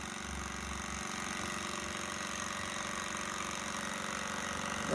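A Bohm HB14 twin Stirling engine from Germany running, a steady fast mechanical chugging and whir at close range, even and continuous for the whole stretch.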